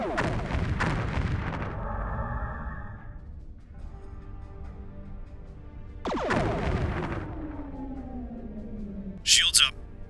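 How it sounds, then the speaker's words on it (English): Animated starship battle effects with photon torpedo explosions and phaser fire, two loud booming blasts with long descending rumbling tails, then a brief high whine near the end. "Set photon torpedoes to explode based on proximity and drop them behind us"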